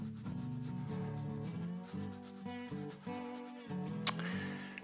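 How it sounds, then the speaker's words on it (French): Wood, apparently pink ivory for a rosette, is sanded with a hand block carrying 180-grit paper: steady, close rubbing strokes that run almost continuously with brief pauses and a sharp tap near the end. "avec une cale à poncer sur laquelle on a mis du 180, mais pas jusqu'au bout, on va faire ce mouvement-là"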